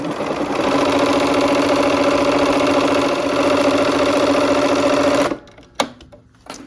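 A sewing machine stitches a quilt block, a loud, fast, even mechanical whir running for about five seconds before stopping, followed by a click and brief quiet handling.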